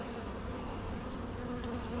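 Honey bees buzz steadily and fairly quietly around an open beehive during an inspection, a dense, continuous hum with no voices.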